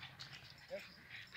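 A dog at a dog park makes faint, brief whimpering sounds between stretches of quiet talking from people nearby.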